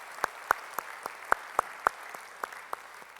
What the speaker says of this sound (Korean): 우리 찬양을 받으신 주님께 영광의 박수 올리겠습니다.